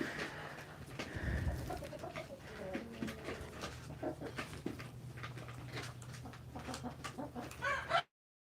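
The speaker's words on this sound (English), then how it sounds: "I want y'all to still be able to see the chickens" Chickens cluck and call in a yard in an irregular run of short clucks and squawks. Other birds mix in, along with a possible dog, over a faint hum, and the sound cuts off abruptly at the end.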